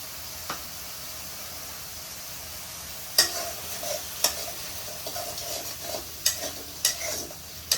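Spices stir-fried in a pan for shrimp malai curry, a soft continuous sizzle with sharp scraping clicks of a spatula against the pan at irregular intervals, close by and without talk.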